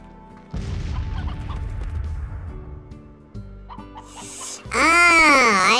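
A chicken in the video game Slime Rancher clucks several times, close and clear, over a low game soundtrack, ending in a loud, warbling electronic game sound.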